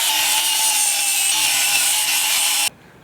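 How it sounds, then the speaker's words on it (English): Power grinding on the underside of a scooter deck, a loud, steady high-pitched whir that holds continuously and then cuts off abruptly near the end. "Got the bottom of the deck pretty much grinded out right now."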